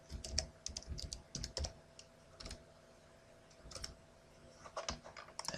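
A password is typed on a computer keyboard, with quick irregular clusters of close, crisp key clicks separated by short pauses, quiet and without talking.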